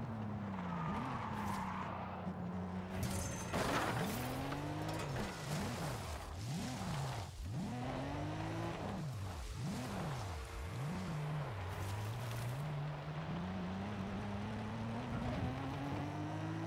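A Nissan GT-R LM race car drives in the Forza video game, its engine revving up and down through repeated rising gear pulls with tire skids, loud and close, ending in a long steady climb.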